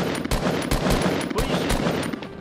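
Gunshots in Fortnite Battle Royale, a series of sharp separate reports spaced irregularly, with faint voices in the background.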